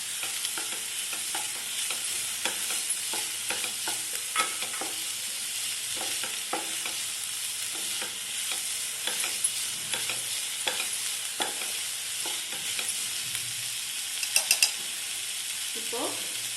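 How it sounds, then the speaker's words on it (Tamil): Onions sautéing in a pan with curry leaves and capsicum make a continuous hiss, broken by a regular series of scraping and clicking stirs from a spoon against the pan, close and fairly loud. "வெங்காயம் நல்லா வதங்கக்கூடாது, கண்ணாடி பதத்துக்கு வந்தால் போதும்"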